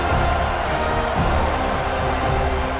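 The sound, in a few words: home crowd noise at Florida State football game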